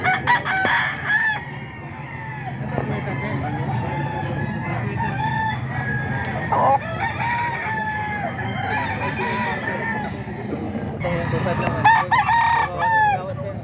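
Roosters crow repeatedly at a Philippine rooster market in a grotto, overlapping calls and clucks rising over a steady crowd murmur, with voices talking in the background.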